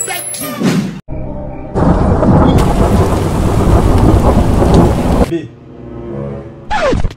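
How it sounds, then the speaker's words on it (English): Heavy rain pours loudly with rumbling thunder, broken by abrupt cuts and brief quieter moments near the start and end. "It's raining."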